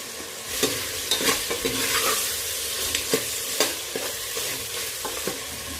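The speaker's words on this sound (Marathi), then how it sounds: "आता आपल्याला मटणाला पाणी सुटेपर्यंत हे परतत राहायचे" Marinated mutton sizzles steadily in a hot pan while being stirred and fried, with repeated scraping strokes of a spoon breaking through the continuous loud frying hiss; no one speaks.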